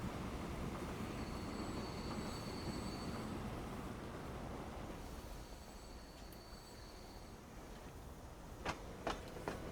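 A train running in the Transport Fever 2 game, a faint steady rolling rumble with thin wheel squeals, then a few sharp clicks near the end.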